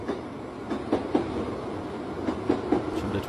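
A train leaving a station rolls along with a steady rumble and rhythmic clickety-clack wheel clicks, moderately near.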